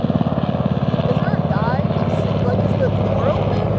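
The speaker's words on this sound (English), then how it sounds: "That's actually like a military helicopter." A military helicopter with its door open passes overhead, its rotor thumping in a fast, regular beat that is loud at first and then settles into a steady drone while people talk.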